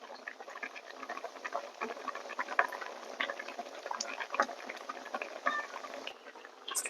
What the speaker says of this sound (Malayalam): നല്ലതായിട്ട് തിളച്ച് വരുന്നുണ്ട്.